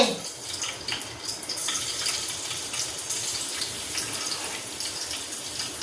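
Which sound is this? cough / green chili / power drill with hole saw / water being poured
water being poured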